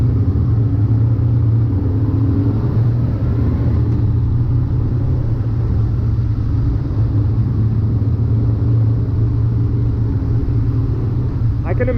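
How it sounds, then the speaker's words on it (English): A Honda VFR800 rides a road in Friesland behind other motorcycles, making a loud, steady engine rumble mixed with constant wind roar. It stays even and close throughout. "you guys don't hear anything because of the bike in front of me or the bikes in front of me"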